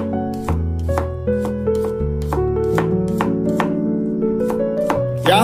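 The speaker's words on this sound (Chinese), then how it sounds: "给它切成蒜片" Garlic cloves sliced into thin pieces with a kitchen knife on a cutting board, a steady run of crisp chopping taps at close range, about a dozen strokes with no talking, over a soft background tone.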